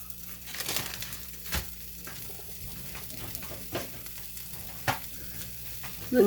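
Bacon strips fry in a pan with a quiet, steady sizzle, broken by a few sharp knocks and clatters.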